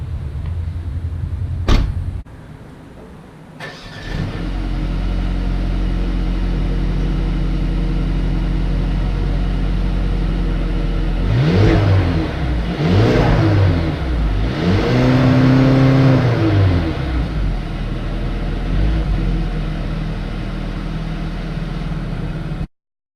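A 2019 Mercedes-Benz A-Class with a 2-liter turbo four-cylinder engine starts after a few clicks, settles into a steady idle, then gives a couple of revs before dropping back, close and fairly loud with no talking.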